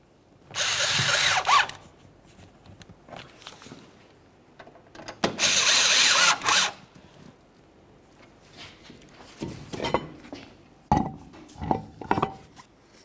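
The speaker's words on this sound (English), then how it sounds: "Start in your mounting screws and snug them up." A power drill drives mounting screws for the fuel filler neck on a 2004-2015 Nissan Titan, with two loud close whirring bursts of about a second each, followed by metallic clinks and handling noises.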